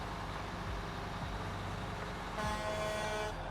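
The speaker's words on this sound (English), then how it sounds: "The horn is nice as well." A steady truck horn in the video game Snowrunner blares for about a second over a low idling engine rumble, loud and close.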